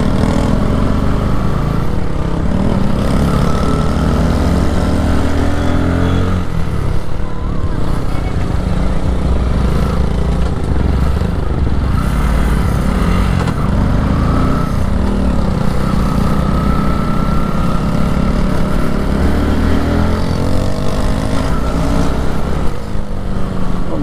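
A Bajaj NS motorcycle engine runs continuously while riding through congested traffic, a loud, close, steady drone with rising and falling revs under heavy wind rush.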